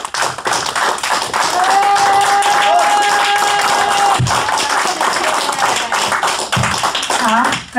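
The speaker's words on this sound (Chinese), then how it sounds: "我们需要做的就是给这位讲员一个热烈的掌声。" An audience at an NHT Global presentation in Los Angeles gives the guest speaker a warm welcome with sustained, dense clapping that fills the room nearly throughout, while a voice speaks briefly over it.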